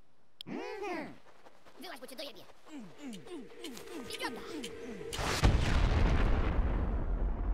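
A kamikaze vegetable character explodes in a cartoonish video game, a sudden loud burst that follows a string of bouncy, bubbly game sounds and then rumbles on as noise.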